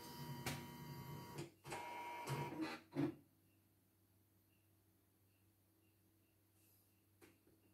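Portable YOKO multifunction embroidery machine switching on, several short mechanical whirs and clicks over about three seconds, then a faint idle hum with a few soft beeps and ticks.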